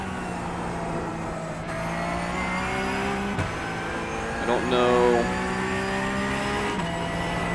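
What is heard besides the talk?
Porsche 992 GT3 Cup race car engine in iRacing video game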